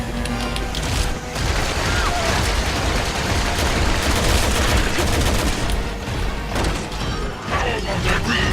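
Machine gun fire in the video game Resident Evil 6, a dense, continuous barrage of loud close bursts and impacts that runs almost without pause, with brief lulls and crashes mixed into the clatter.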